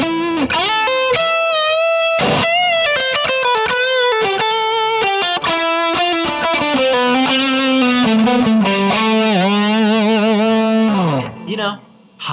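A loud, bright distorted electric guitar through a Crate Stealth 50 amp model in the Helix, on its rock setting, playing a riff with gliding notes and bends, gritty and buzzy, ending abruptly.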